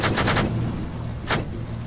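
Gunfire in the military video game Arma 3, a quick burst of three sharp shots followed by a single shot a second later, loud and close over a dense rumbling background, with no talk.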